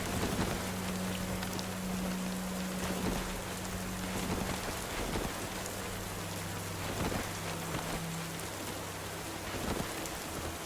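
Steady rain in the video game Cataclysm: Dark Days Ahead, a dense continuous patter on surfaces with a low hum beneath, constant and even throughout, with no speech.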